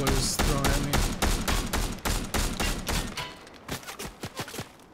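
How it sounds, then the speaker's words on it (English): Rapid gunfire in the Fortnite battle royale, dense bursts of fast repeated shots, loud and close, thinning into separate sharper shots near the end. "You really shooting at me too, bro?"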